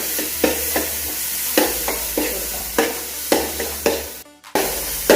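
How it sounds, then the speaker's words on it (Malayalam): Onions, tomatoes and slit green chillies fry in a pan under a continuous sizzle, with regular scraping stir strokes about every half second and a brief pause near the end. "സവോളയൊക്കെ വഴണ്ടി നമുക്ക് തക്കാളിയും പച്ചമുളകും ഇട്ട് വാങ്ങിക്കൊടുക്കാം പച്ചമുളകും കൂടി ഇട്ട് കൊടുക്കാം"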